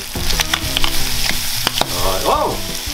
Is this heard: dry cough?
no